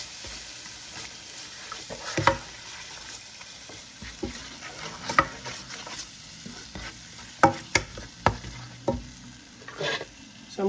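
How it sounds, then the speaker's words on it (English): Lamb and potato curry sizzles in a pan as it is stirred, soft frying hiss broken by irregular scraping and clinking strokes of the spoon, fairly close and quiet, no talking. "So I'm going to stir this for about 3 minutes."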